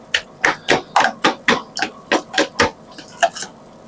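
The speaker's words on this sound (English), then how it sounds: "I'm just chopping that up with my spoon." A spoon chops cooked beets in a pot: about a dozen sharp metallic knocks in a quick irregular rhythm, close and fairly loud, with no talking.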